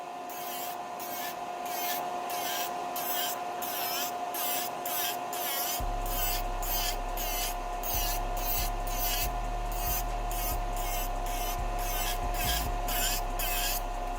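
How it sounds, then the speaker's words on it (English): An electric nail drill files down an acrylic nail at home over a running dust collector: a constant high whine and airflow hiss, with rapid repeated rasping strokes and a low motor hum that shifts as the bit presses. "I'm going to turn the dust collector on. And I'm just going to go down my nail"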